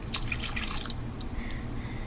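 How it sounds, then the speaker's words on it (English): Half a cup of milk is poured into a cheesy potato mixture, making a brief, close liquid trickle and soft dripping splashes over a low background hum. "So just take your milk, half a cup, and pour it in."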